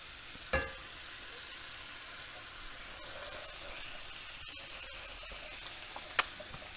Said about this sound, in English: Now I'm going to stir in my tinned tomatoes and stock.